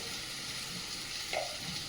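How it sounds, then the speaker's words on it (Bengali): Bitter gourd picked fresh from the garden frying with potato in a pan gives off a steady, close sizzle for the whole stretch, with a brief louder spatter near the end and no voices. "উচ্ছে ভাজা হচ্ছে, বাগান থেকে উচ্ছে তুললাম আর আলু দিয়ে ভাজা হচ্ছে।"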